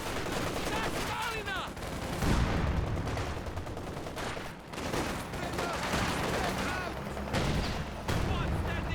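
An artillery barrage in the WWII strategy game Company of Heroes 2 fills the air with dense, overlapping gunfire and booming blasts, while a commentator talks over the continuous battle.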